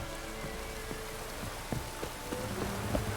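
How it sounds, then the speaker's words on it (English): Steady rain in The Witcher 3 video game, a dense broadband hiss of drops on surfaces with a few sharper splashes and faint low rumbles, continuous and moderately quiet throughout. "Looks like rain."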